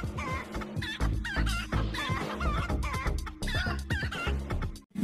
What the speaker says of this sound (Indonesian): ternyata ayam teman-teman.